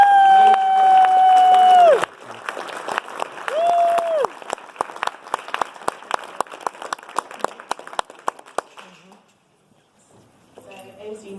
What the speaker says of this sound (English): So let's give a big round of applause for Emily.